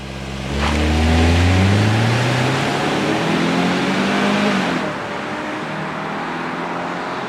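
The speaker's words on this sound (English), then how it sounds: "This might be the slowest accelerating vehicle we've tested all year. It does 0 to 60 in something over 9 seconds." A 2026 Kia Sportage SUV pulls away from a dead stop, its engine note climbing through the gears in rising sweeps, loud and steady for several seconds before easing back to a quieter drone.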